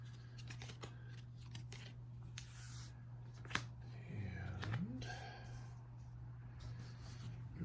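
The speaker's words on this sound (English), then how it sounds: "so I draw 3 cards" Playing cards drawn from the deck of a solo board game, several soft, close slides and taps against a faint background hum, with a quiet voice nearby.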